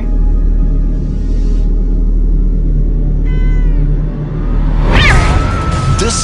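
A cat meows a few times over a low steady rumble in the video game PlayStation Home, with a louder, drawn-out yowl near the end.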